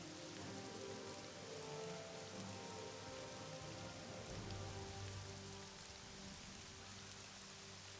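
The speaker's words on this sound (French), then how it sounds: "Je ne vous entends pas avec cette pluie, où êtes-vous?" Steady rain falls in the video game Morrowind, a dense even patter of drops on surfaces that holds quietly throughout, with no voices.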